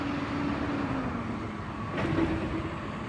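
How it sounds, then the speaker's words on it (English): Heavy road traffic rumbles steadily outside, with a low engine drone and a passing vehicle swelling louder near the end, sounding like loud trucks going by. "these loud ass trucks"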